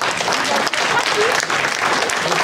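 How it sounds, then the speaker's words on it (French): Audience applause at the close of a talk on freedom of expression, dense steady clapping from a crowd filling the room, loud and continuous throughout with no break. "On peut l'applaudir."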